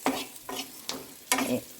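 Tempering sizzling in hot sesame oil in a home kitchen while being stirred, with soft crackling frying and several sharper stirring scrapes in an uneven rhythm, fairly quiet and close.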